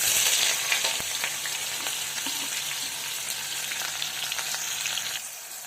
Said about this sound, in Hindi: यहाँ पे अनियंस को जो है ना हमें हाई फ्लेम पे पकाना है।